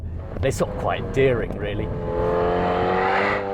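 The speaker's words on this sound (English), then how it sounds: "you can hear the exhaust on the overrun. It sort of burbles and chatters away when you have it in sport mode" An Alpine A110 sports car in sport mode on a Monte Carlo Rally stage, its exhaust droning and burbling on the overrun. Someone talks over the engine at first, then the engine note continues steadily.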